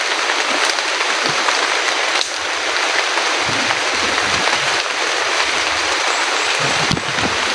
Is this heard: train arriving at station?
no